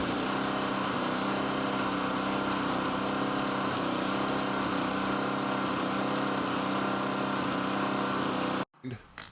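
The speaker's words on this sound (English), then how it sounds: "this is what the inside of a flail mill looks like when it's running" A flail mill runs with its chains spinning inside to crush rock, a loud, steady mechanical roar and rattle that carries on without a break and then cuts off abruptly near the end.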